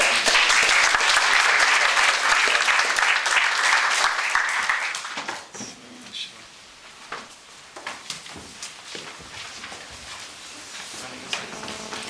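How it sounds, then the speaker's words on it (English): Audience applause at a panel event fills the first five seconds with dense, loud, steady clapping, then fades to scattered claps and quiet room noise. "round of applause for our speakers"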